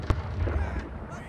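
Ship cannon fire in the naval battle game Blackwake: a single sharp, heavy boom near the start, followed by a rumbling tail and muffled battle noise.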